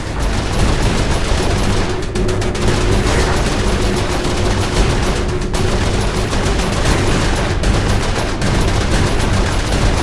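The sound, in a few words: gunfire in the video game Saints Row IV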